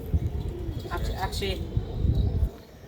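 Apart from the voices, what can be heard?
pigeons in a rooftop loft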